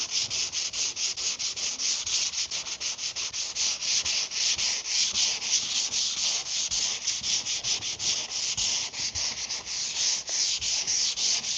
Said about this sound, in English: block the primer with 320 and take it on down like that